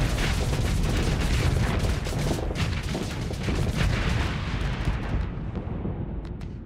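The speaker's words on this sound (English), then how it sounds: "Ooh, anti-shield missiles." Anti-shield missiles launching in the space combat game Starsector, a dense continuous roar of rumbling blasts and booming impacts that thins out toward the end.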